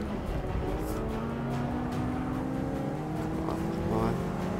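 A race car in Forza Motorsport 6 accelerates from first gear, its engine note climbing through rising revs. A voice talks over the engine now and then while it pulls away.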